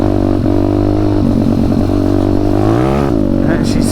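A WPB 190 motorcycle engine fitted with a NIBBI carburetor revs loudly and up close, its throaty note climbing and falling in pitch as the throttle is worked, ending in a sharp rise.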